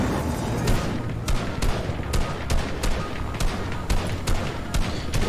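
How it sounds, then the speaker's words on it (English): Rapid video-game gunfire in a Fortnite-style battle royale match, with dense bursts of shots and automatic fire crackling steadily throughout, close and loud, with no talk over it. "We're getting shot at."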